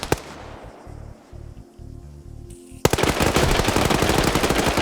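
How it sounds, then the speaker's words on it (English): Gunfire in an Arma 3 PvP tournament match: faint distant bursts of shots at first, then a sudden denser stretch of rapid, loud automatic fire continuing to the end. "hearing some long-range fire"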